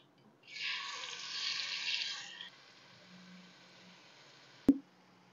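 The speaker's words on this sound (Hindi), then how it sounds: "इसी में थोड़ा सा पानी डालूंगी मैं" Water poured into a cooking pot holding oil and marinated beef for Bihari kabab, a short hissing pour of about two seconds followed by quiet and one sharp clink near the end.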